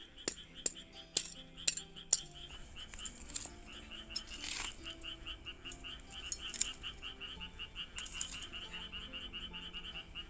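Frogs croak in a rhythmic, overlapping chorus around a potato field during the summer harvest. Several sharp clicks come early, then the steady calling carries on at a moderate distance without speech.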